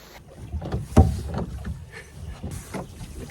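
Splashing and knocking of a rowboat's oars in water come in uneven strokes with wind buffeting the microphone and a sharp thump near the start.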